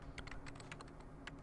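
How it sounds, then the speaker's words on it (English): Rapid computer-keyboard typing sounds as a quick run of light, crisp clicks, faint and close, over a low steady background hum. "I was typing"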